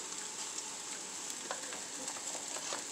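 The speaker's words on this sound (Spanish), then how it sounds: "Y luego ya vamos a agregarlo al sartén. Así está caliente." Ingredients sizzle and fry in a hot skillet on a stove, a steady close crackling hiss with occasional sharper pops, no voices.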